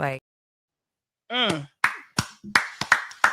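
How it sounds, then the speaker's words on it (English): A studio audience claps in a few sharp, scattered bursts that grow denser toward the end, following a brief voice near the start. "Y'all want to clap for that"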